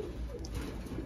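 A Giribaz pigeon cooing, a brief soft low coo over a steady background hum.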